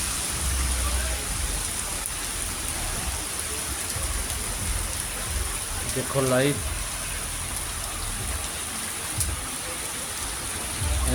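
Heavy rain falling over a village in Punjab after a spell of intense heat, a steady broadband hiss throughout, with a voice speaking briefly over it.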